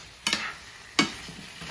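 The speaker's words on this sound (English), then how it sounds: "beef sa ating slow cooker" Beef short ribs dropped into a slow cooker pot for beef stew, two brief clattering thuds about 0.7 seconds apart over faint background hiss, close and fairly quiet, no talking.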